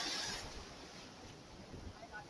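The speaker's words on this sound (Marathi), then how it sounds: "भयानक ही मोठी लाट आहे" A large ocean wave surging and washing in on the Konkan coast during fishing, a broad rushing roar with wind buffeting the microphone, loud at first then settling into a steady wash.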